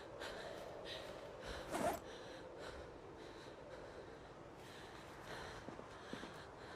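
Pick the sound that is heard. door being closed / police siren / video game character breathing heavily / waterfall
video game character breathing heavily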